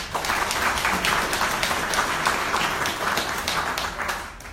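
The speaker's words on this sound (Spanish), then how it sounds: "Un aplauso, por favor." An assembled audience at a national gathering applauds in a moderate, even patter of many hands, sustained throughout and tapering slightly at the close.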